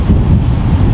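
Wind gusting across an open golf course, a steady low rumbling roar buffeting the microphone for the full second with no voices.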